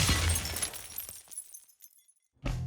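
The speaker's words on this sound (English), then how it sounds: "The vibrations were so strong that the glass literally shook itself to pieces" A drinking glass shaken apart by strong sound vibrations bursts in a loud, bright shatter, followed by scattered tinkling fragments settling, a short silence, then a fresh noisy burst at the end.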